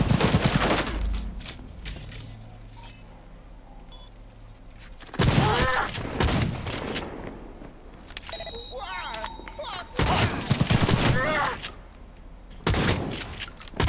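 Shotgun blasts boom in Cyberpunk 2077 combat, several loud, dense bursts spaced a few seconds apart amid game clatter and mechanical reload clicks, with a player talking between them.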